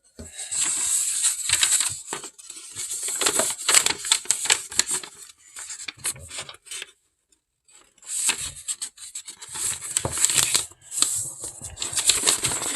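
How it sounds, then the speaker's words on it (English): Origami paper being creased and folded in half up close, with bursts of crisp rustling, rubbing and scraping separated by short pauses. "So, I'm folding it in half."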